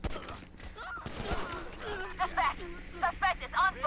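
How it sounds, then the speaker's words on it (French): Rapid bursts of gunfire in the video game GTA with the LSPDFR police mod crack in a short volley, mixed with clattering effects and a voice talking underneath. "Ok, ça tire, coup de feu."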